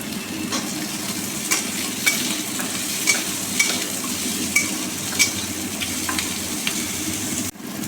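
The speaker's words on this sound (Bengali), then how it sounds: "সবজিগুলো ভাজা হয়ে গেছে" Chunks of radish and sweet potato sizzle in hot oil with dried red chilli and a bay leaf, a steady close frying hiss broken by periodic scrapes and knocks of a spoon stirring the pan.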